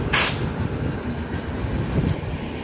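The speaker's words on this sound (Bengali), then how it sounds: "Down Shatabdi express." The Down Shatabdi Express runs past on the main line toward Howrah, a continuous close rumble of wheels with a sharp hissing burst at the start and another near the end.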